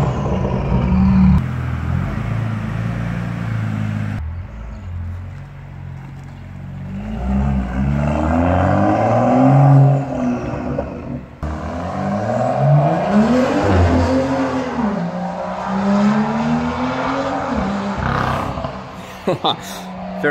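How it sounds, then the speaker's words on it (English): A BMW M2 is revved hard several times at close range, its engine note climbing and falling in sweeping rises, with people talking between and over the revs in an outdoor setting. "You want me to rev it one last time?"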